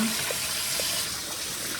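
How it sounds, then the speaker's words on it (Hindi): Water runs and sloshes steadily while rice is rinsed for a lamb mandi in a home kitchen, a continuous close splashing wash with a few small clinks. "अभी मैं इसको वॉश करके और इनको ना भिगो दूँगी 15-20-25 मिनट के लिए इनको भिगो देती हूँ"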